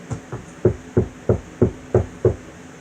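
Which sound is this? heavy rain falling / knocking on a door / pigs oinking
knocking on a door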